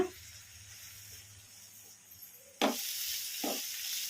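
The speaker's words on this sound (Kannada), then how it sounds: "ಮುಲ್ಲಂಗಿನ ಒಂದೆರಡು ನಿಮಿಷ ಈ ಥರ ಕಲಸ್ಕೊಂತ ಫ್ರೈ ಮಾಡ್ಕೊಂಡ್ಬಿಡೋಣ" Grated radish is fried and stirred in a pan: a soft, close hiss that jumps to a loud sizzle partway through, with a couple of short scraping stirs.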